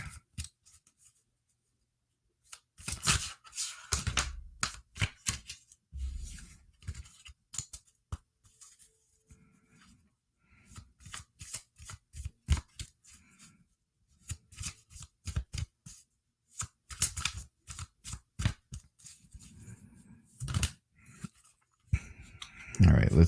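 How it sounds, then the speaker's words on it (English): Tarot cards being shuffled during a live reading, with repeated papery riffles and soft clicking bursts coming and going between stretches of close talking. "I shuffled and shuffled and shuffled"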